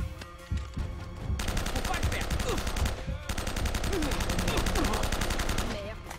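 Rapid automatic gunfire crackles in the video game Uncharted: Drake's Fortune, dense and sustained bursts running almost the whole time with brief pauses, loud over a game soundtrack.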